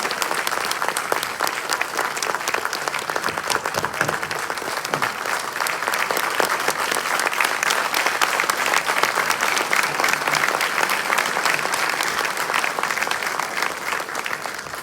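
An audience at the CSS Day 2023 celebration at the Ambedkar International Centre, New Delhi, applauds loudly to welcome Pratap Sarangi. The clapping is sustained and dense for about fifteen seconds and stays even, close and continuous throughout.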